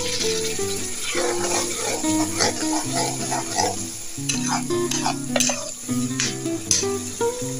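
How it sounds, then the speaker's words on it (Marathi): Ginger-garlic and tomato gravy stirred into fried capsicum and onion in a pan for soya masala pav, giving a steady close sizzle with repeated scraping and stirring strokes throughout, plus low tonal background hum. "आता यामध्ये आलं लसूण व 5 टोमॅटोची ग्रेव्ही एकत्र टाकू।"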